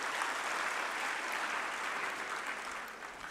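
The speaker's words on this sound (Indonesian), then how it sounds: "Tepuk tangan dong buat Pak Prabowo." An audience at a young executives' business and economics dialogue applauds presidential candidate Prabowo Subianto, a steady wash of crowd clapping at moderate volume that tapers slightly at the end.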